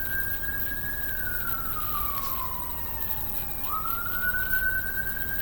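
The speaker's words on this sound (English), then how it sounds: "I don't know if you can hear that. It's a siren." A single siren wails steadily, its pitch sliding down and then jumping back up, over a constant low background rumble.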